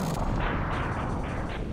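A ship explodes in the Mega Man X video game, a loud, dense, rumbling blast sustained across the moment with crackling bursts layered on top.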